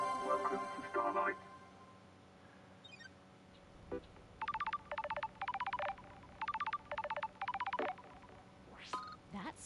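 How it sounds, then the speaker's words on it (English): An incoming phone call rings in the video game Paradise Killer: several pulsed bursts of bright electronic trilling tones repeat in a steady rhythm after a voice speaks briefly at the start. "Phone call from Judge is unexpected."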